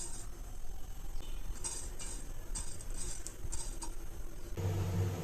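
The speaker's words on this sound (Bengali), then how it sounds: "এবারে আমি কিছু পাঁচফোড়ন টেলে নিচ্ছি" Panch phoron spices dry-roast in a pan for a chalta pickle, a spoon scraping and tapping the metal in a quiet run of ticks and clinks, followed by a fuller burst of rattling toward the end.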